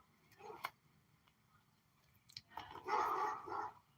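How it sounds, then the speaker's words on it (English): Dogs barking at a distance in a few short bursts, with a louder flurry of barks near the end over quiet background. "here's why they're barking"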